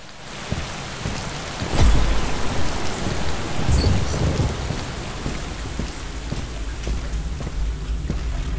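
Rain patters steadily across surfaces in the VR game Boiling Steel, with a rumble of thunder rolling in early and low, and occasional louder drops over the constant hiss.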